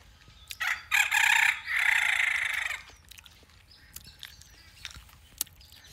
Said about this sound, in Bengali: মুরগার ডাক, পাখির ডাক।